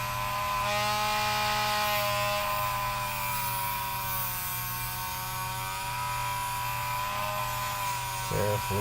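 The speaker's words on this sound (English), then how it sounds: "It's just focusing on sawing this tiny little piece off here at the end." Power saw cutting a tiny end piece off a workpiece, a loud continuous buzzing whine held steady for several seconds, then a brief clatter near the end.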